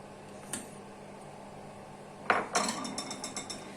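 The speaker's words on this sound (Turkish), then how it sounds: "Öncelikle şöyle bir karıştırıyorum sütlaçımı. Daha sonra kaselerimi pay ediyorum." Rice-flour milk pudding stirred in a pot and then ladled into bowls: a faint early clink, then a louder spoon strike against the pot followed by a rhythmic run of small ceramic clinks and scrapes, close and quiet, with no talking.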